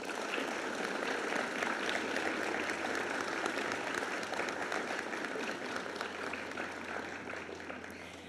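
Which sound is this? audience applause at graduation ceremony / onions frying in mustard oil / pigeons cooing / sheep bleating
audience applause at graduation ceremony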